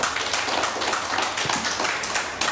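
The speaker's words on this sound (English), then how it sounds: "let's give them a round of applause first" An audience at a talk on mobile game design breaks into dense, steady applause, many hands clapping together close by with no voices over it.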